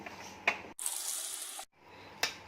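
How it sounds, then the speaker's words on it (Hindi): Water drains from partly cooked rice for a Hyderabadi chana dal pulao, a steady splashing pour of about a second between a few soft clinks and kitchen sounds. "अब इनका पानी एक्स्ट्रा निकाल देते हैं।"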